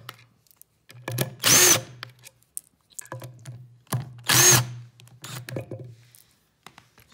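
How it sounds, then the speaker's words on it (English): Power drill backing Phillips screws out of a Honda oil pump, two short close high whirring bursts separated by quiet stretches, with small clicks and handling knocks between. "I'm gonna pull all these little Phillips screws out."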